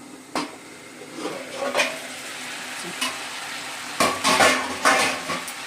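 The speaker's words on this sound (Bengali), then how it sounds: "চিচিঙ্গা ভাজছি কালো জিরে কাঁচা লঙ্কা দিয়ে চিচিঙ্গা ভেজে নিচ্ছি গরম গরম" Snake gourd frying in a pan with black cumin and green chili, a steady close sizzle broken by sharp scraping stirs and clinks of a spatula against the pan, with no talk.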